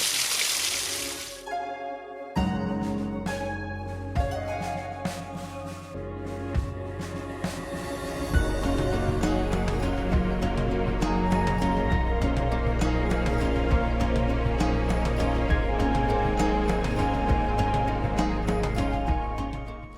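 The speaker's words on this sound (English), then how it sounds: "The water's slowly coming down here next to the main waterfall too," Water streams and trickles off stone into small pools beside the main waterfall at Rose Valley Falls in the Los Padres National Forest, a steady, dense rushing wash with brighter splashes layered over it, close and continuous throughout.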